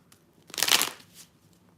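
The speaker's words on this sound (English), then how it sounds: "Shuffling the cards" A deck of cards riffle-shuffled close by during a live tarot reading, one brisk burst of crisp fluttering snaps followed by a lighter second rustle, with no voices.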